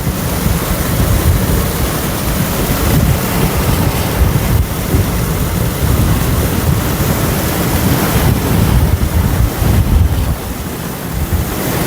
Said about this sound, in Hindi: देखें ये पानी भर गया, 5-6 मिनट में गाड़ी पानी भर जाता है।